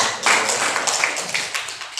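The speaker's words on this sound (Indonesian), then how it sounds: "tepuk tangan untuk kalian semua" Vocational school students in a classroom applaud together, a steady patter of many hands clapping that swells in quickly and continues for about two seconds.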